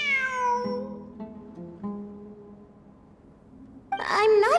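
A cat meows in Genshin Impact, a long descending cry that opens the scene over soft ambient music, then a sharper, higher meow near the end. A voice briefly overlaps the final cry.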